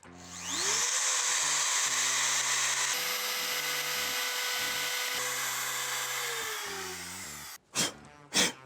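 Router cutting a round-over edge on a Stratocaster guitar body, a loud sustained high whine running for about seven seconds as the bit bites the wood, ending with two short bursts as it spins down.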